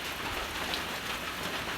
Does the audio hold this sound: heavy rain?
yes